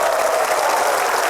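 Brief burst of steady, full applause from a television studio audience at an Indonesian talk show, a dense clapping wash with no talk over it.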